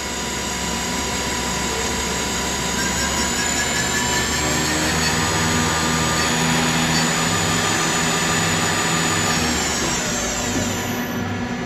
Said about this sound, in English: That's the main spindle running.